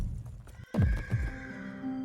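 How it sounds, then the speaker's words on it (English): A horse gives a loud whinny with a falling tone just after a quick run of hoofbeats, then a second shorter neigh. Both are close and clear, and the sound fades into a ringing tail. "the sound of the hooves pounding the ground"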